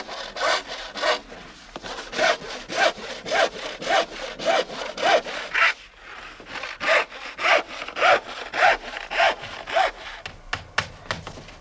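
A hand saw cuts through paired wooden boat planks (strakes) tacked together for a Shannon One Design boat, in steady close rhythmic strokes, a brief pause midway, then more strokes ending in quicker short cuts.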